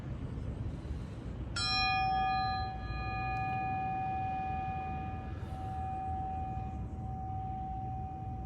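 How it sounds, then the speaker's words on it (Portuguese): A small bell is struck once and rings out with a clear, sustained metallic tone that slowly fades over several seconds, heard alone against a low background hum in a quiet room, used during a relaxation practice. "a gente vai tocar o nosso sininho pra gente chamar boas energias"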